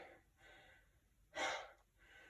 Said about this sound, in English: If you're in better shape than me, you're not breathing as hard.